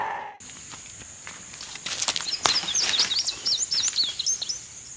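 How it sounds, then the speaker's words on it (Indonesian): Numerous small birds chirp and tweet in quick, overlapping bursts on a bright sunny morning outdoors in the wild, with close wing flaps and rustles, the calls growing busier and louder after the first couple of seconds. "Banyak burung-burung berkicau"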